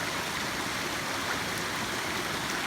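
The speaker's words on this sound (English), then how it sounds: "The water's kind of running downhill." Rushing stream rapid in the Adirondack wilderness of Hoffman Notch, water tumbling downhill past an overhanging branch, a steady broadband roar up close that fills the whole clip with no voices.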